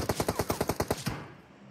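A quick string of about ten gunshots fires at an even pace in PUBG, then a short echoing tail fades out after the last shot.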